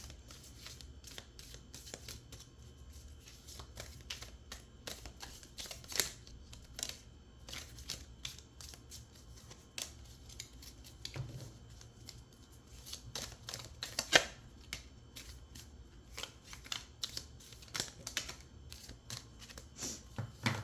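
Tarot cards being shuffled by hand, a long run of soft, quick riffling and slapping card sounds in irregular bursts, close and fairly quiet with no talking.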